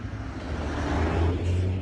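Emergency vehicles driving up to a backyard bonfire call at a garden plot in Germany; a steady, close rumble of engines and road noise fills the clip without breaks.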